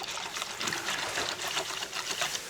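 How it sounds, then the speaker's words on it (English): Water is poured from a measuring cup into a sausage seasoning mix, a steady close splashing trickle running throughout. "Get a measuring cup, add 25 ounces of water."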